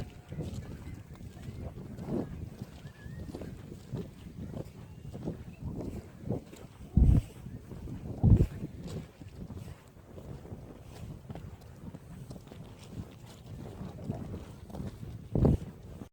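Gusty wind buffets the microphone at a seaside beach, roaring in uneven rushes with several louder thumps, steady and close throughout.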